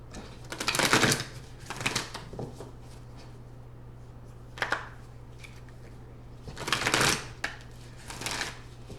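Moonology oracle cards are shuffled close by, the riffling coming in several short bursts with quiet pauses between them and a steady low hum underneath.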